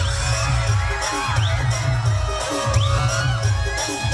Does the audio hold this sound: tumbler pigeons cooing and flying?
no